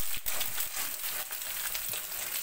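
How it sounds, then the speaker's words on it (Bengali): Eggs fry in a pan before being added to rice, giving a soft, continuous sizzle with light crackles throughout. "এবারে রাইসটা করার জন্য ডিমটাকে ফার্স্টে ভেজে নিচ্ছি"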